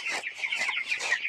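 Nineteen-day-old broiler chickens on a farm cluck and cheep close by, a busy, overlapping chorus of short calls.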